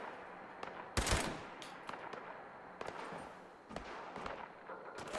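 Automated turrets firing in the Fallout 76 video game: a sharp burst of gunfire followed by scattered fainter shots and clatter, fairly quiet overall.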